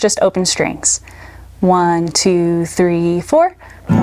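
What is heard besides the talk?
No everyday noise stands out behind the speech.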